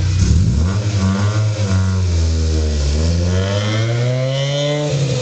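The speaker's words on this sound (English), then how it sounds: "there goes Keith's new car" A Peugeot car accelerating away, its engine note climbing in pitch through rising revs and gear changes, loud and close at first and staying prominent with no voices.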